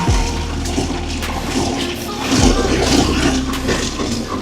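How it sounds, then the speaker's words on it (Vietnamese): Water rushes steadily through a primitive water-powered generator set beside a forest stream on the way up Tây Thiên, a continuous close splashing flow with a faint low hum underneath. "Đây là máy phát điện thô sơ chạy bằng sức nước"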